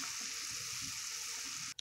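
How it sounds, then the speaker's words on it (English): A pot of zucchini and carrot soup simmers with a steady, soft bubbling hiss that continues evenly throughout and then cuts off abruptly at the end. "This soup is simmering now."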